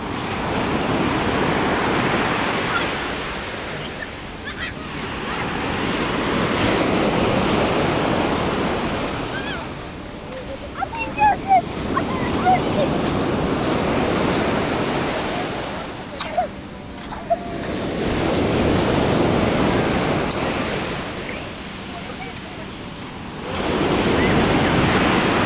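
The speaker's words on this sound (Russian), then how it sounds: "бывают мгновения, когда волны небольшие, в это время можно, в принципе, зайти и выйти безопасно" Sea waves surge and break on a beach at Alanya, Turkey, on an overcast September day, rising and falling in several long, loud washes of surf with wind buffeting the microphone between them.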